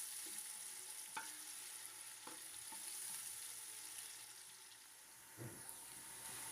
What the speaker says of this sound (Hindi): प्याज को हमने 2 से 3 मिनट तक मीडियम फ्लेम पे फ्राई कर लिया है।